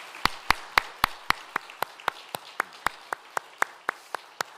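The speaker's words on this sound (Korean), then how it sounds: "다시 한번 박수로 우리 주님에게 감사와 영광의 박수를 올려 드리도록 하겠습니다" A church congregation applauds at a Sunday service in a slow, sharp, evenly spaced rhythm of about sixteen unison claps over roughly four and a half seconds. The claps are clear and close against a quiet background.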